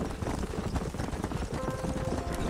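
Horses in the Western video game Red Dead Redemption: a steady patter of hooves clip-clopping at moderate volume, with ambient game sound behind and no clear talk.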